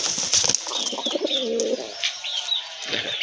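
Desi pigeons coo in soft, low, rolling calls, close by, with a few higher chirps and a wing rustle mixed in.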